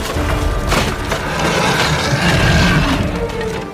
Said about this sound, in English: swung its massive axe, smashing through the classroom door.